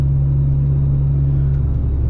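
A Ferrari F355 Berlinetta engine drones steadily as the car drives, a loud, continuous low hum with constant road rumble and no voices.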